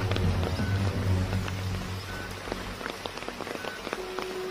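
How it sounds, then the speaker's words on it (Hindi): Steady rain patters on surfaces nearby, with a dense hiss and scattered sharper drops. Heavier at first, it thins slightly toward the end, and there is no talking. "बारिश भी तेज होगी"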